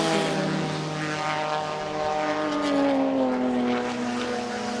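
A Lister Knobbly race car screaming along a track, its engine a loud, sustained, close howl with a pitch that rises and falls as it works through the gears, with no talk over it.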